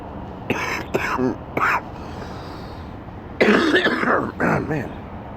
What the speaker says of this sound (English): Man, nasty cough.